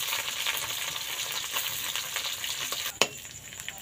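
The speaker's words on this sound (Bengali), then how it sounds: "তেল দিলাম, এবার শুটকি মাছগুলো ভেজে নেব।" Dried fish frying in hot oil in a pan, a steady close sizzle with faint stirring and a sharp clatter near the end.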